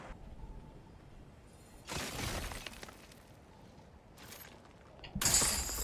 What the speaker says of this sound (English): that glass noise sounds real